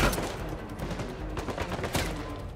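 Gunfire from a sniper and other weapons in the video game Uncharted 4, a dense run of loud repeated shots and impacts with no speech.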